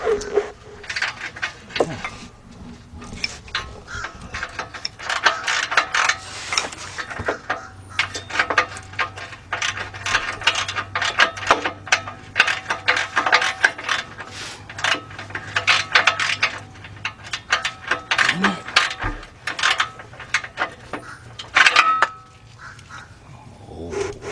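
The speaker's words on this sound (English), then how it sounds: "let's get our 18mm with a ratchet so we can tighten up the top one" Ratchet with an 18mm socket tightening a bolt on a 2006 Kia Sportage 2.7 engine during removal. Repeated bursts of quick metallic clicking come close up, with short pauses and a few knocks between strokes.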